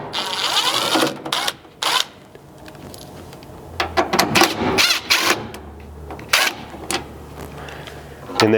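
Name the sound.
driver removing T20 Torx screws from truck tail light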